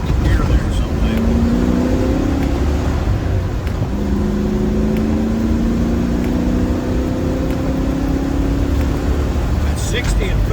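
Land Rover driving a wet, muddy road in rain in third gear at speed with wheel spin, a loud steady engine drone with rising tonal whine and road splash, continuous and close from inside the cab.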